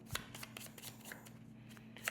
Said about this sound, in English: I don't have any cards in my deck, so I am going to shuffle.